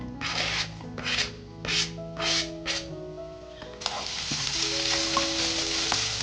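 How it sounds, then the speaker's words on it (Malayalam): Onions sautéed in a pan for a Kerala beef milk curry: several rhythmic stirring scrapes over a soft frying hiss, then a bright, continuous sizzle, close and clear. "നമ്മൾ സവാള വഴറ്റി കൊടുക്കുകയാണേ."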